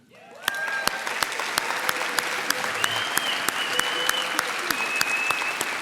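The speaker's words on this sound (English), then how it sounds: "So I'd like to give a long round of applause," A luncheon audience at an annual awards event gives sustained applause, dense clapping that starts abruptly and holds steady, with a few louder individual claps standing out and faint voices underneath.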